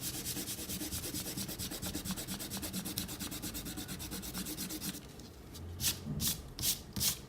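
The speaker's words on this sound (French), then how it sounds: "on peut gommer notre trait de construction." Quick back-and-forth rubbing of an eraser over paper, lifting a pencil construction line from a drawing; a steady run of close, dry strokes, then a few separate firmer swipes near the end.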